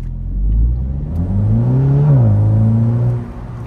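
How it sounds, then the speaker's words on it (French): A car accelerates briskly from a standstill in normal mode, a rising engine-like whir and road roar climbing in pitch, loud and close, with no talking. "si je fais un démarrage un petit peu plus sportif ici"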